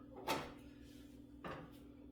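A small plastic door on a 1975 Marx Navarone vertical playset is opened, giving two faint, brief clicks about a second apart in a quiet room.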